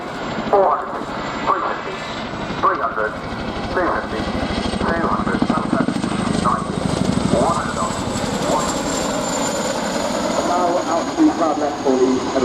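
An RAF Chinook helicopter performing a display flight at the Royal International Air Tattoo gives a continuous rotor thud and engine roar, loud and sustained, with a commentator's voice talking over it.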